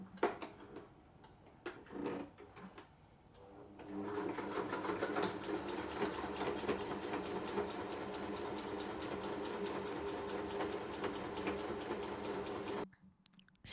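A sewing machine stitches the inner fabric of a homemade mitten pot holder, running in a steady, fast close-up whir for about nine seconds after a few brief starts.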